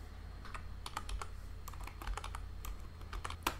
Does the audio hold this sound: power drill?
no